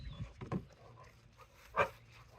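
A dog outdoors gives a couple of soft, close whimpers, then a single louder bark-like yelp, separated by quiet gaps.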